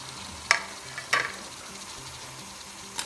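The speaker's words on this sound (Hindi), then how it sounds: "ये सारा मीट ऐड कर दूँगी।" Mutton pieces frying in a pot while being stirred, with a soft steady sizzle underneath and two sharp scraping clatters early on and a lighter one at the end, fairly quiet overall with no talking.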